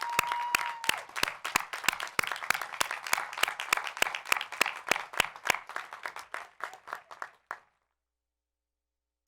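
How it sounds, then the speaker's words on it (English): Applause at a university spring commencement ceremony, a crowd clapping steadily for several seconds before it thins out and stops abruptly, with a faint tone at the start. "So let's give them an applause for this accomplishment."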